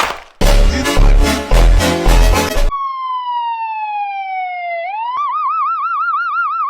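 An ambulance siren enters after a burst of loud music, first a long falling tone, then a fast warbling wail, close and loud, with no talking.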